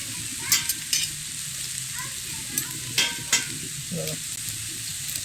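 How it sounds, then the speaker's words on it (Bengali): Boiled chowmein noodles frying in a pan for restaurant-style egg veg chowmein, a steady crackling sizzle broken by several sharp scraping stirs of the spatula. "এবারে চাউমিনটা আমি 2-3 মিনিট ঠিক এভাবেই ভেজে নেব।"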